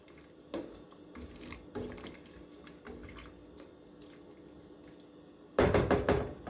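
A spoon stirring meat and potato stew in a pot of just-added boiling water: sloshing and intermittent knocks against the pot, ending in a louder burst of liquid movement, close with no talking.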